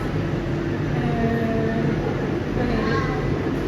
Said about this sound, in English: And this is our electric train for today